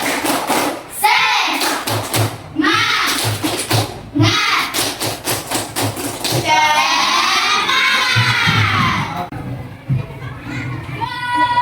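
A classroom of students performs a 'tepuk semangat' ice-breaking chant, sharp rhythmic group claps in quick bursts mixed with children's chanting voices, loud and close, ending in a sustained shouted cheer.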